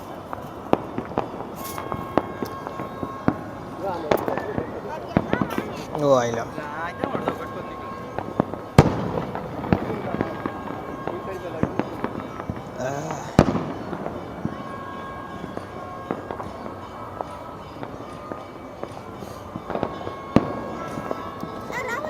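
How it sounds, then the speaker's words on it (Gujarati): Firecrackers and fireworks burst during Makar Sankranti celebrations: scattered sharp cracks and booms, near and far, pop irregularly across the scene while people talk and exclaim. "આમ જો ફટાકડા ફોડે જો"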